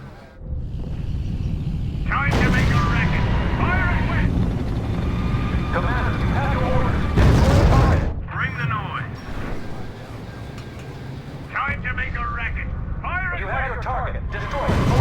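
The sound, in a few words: artillery fire in the video game R.U.S.E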